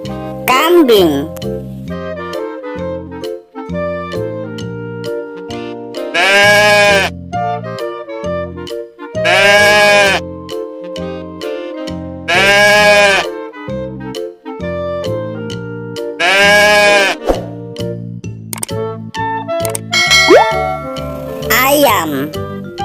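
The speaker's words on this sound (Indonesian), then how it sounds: "Kambing." A goat bleats repeatedly in loud, wavering cries, about four calls spaced a few seconds apart, over a bouncy, upbeat children's melody.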